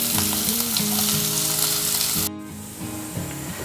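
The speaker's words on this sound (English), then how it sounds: "now I am adding chopped onions to this. We are going to saute this till they turn light brown in color" Chopped onions sautéing in hot oil for chole, a loud steady sizzle and crackle close by, with background music playing underneath and a short break partway through.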